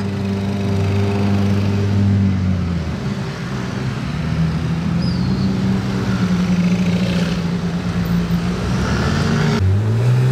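Ferrari-style SP3 sports car with a fitted exhaust system taking a bend, engine note dropping in pitch and then climbing as it powers away, loud and close with no talk.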